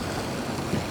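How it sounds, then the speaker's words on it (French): A boat engine drones as steady background noise out at sea, a continuous, fairly loud rumble with no voices over it. "J'entends un bruit de fond de moteur, quoi."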